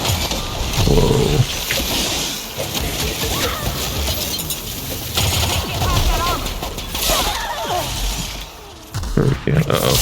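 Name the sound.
crooked rocket launcher firing in video game The Outer Worlds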